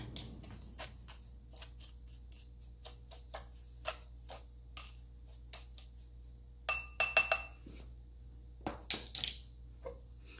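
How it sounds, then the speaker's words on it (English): Tylose powder being mixed into sugar in a bowl, a series of light scraping and clinking taps of a utensil against the bowl, irregular and close, with a quick cluster of sharper clinks partway through, no talking. "And then just kind of mix that up to make sure it's evenly incorporated."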